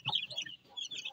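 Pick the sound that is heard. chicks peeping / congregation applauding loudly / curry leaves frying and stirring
chicks peeping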